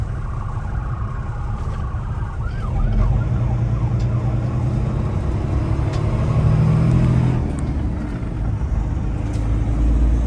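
An ambulance siren wails on the road, heard from inside a vehicle heading for the interstate. Its rising and falling sweeps come through faint and distant, partly buried under the loud rumble of the engine and road noise.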